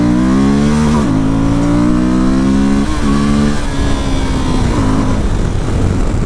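A Suzuki V-Strom 1050 liter-class motorcycle accelerates hard, engine climbing through revs and dropping briefly at each gear change, loud and close over steady wind rush.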